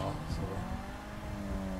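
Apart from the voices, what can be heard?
car driving away in GTA video game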